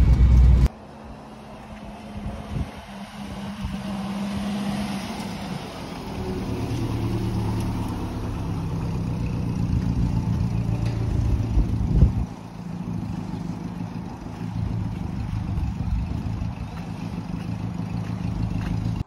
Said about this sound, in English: There you have it, test drive of the Bedford HA, drove impeccable.